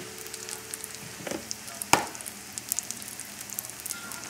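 A chicken cutlet browns slowly in a frying pan, giving a steady, close sizzle and crackle with scattered pops and one sharp clatter near the middle, with nobody speaking.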